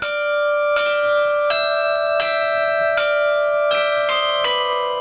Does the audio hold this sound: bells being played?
yes